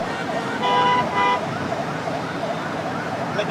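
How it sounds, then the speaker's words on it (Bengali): An ambulance siren wails in short bursts over steady road and traffic noise, fairly distant and partly masked, as the ambulance travels in a vehicle convoy heading toward an airport. "আমরা দেখতে পাচ্ছি তাকে বহনকারী সেই অ্যাম্বুলেন্সটি অ্যাম্বুলেন্সটি ইতিমধ্যেই বিমানবন্দরের দিকে এগিয়ে যাচ্ছে"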